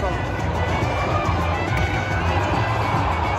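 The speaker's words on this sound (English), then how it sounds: "Something happened in the football game. You can hear them cheering." A crowd cheering at a football game, a dense continuous roar of many voices and shouts, loud and unbroken throughout, heard as a wash of distant stadium noise.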